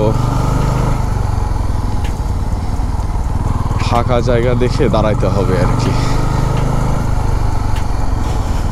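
A Bajaj Pulsar F250 motorcycle engine drones continuously throughout a ride while someone speaks briefly over the noise.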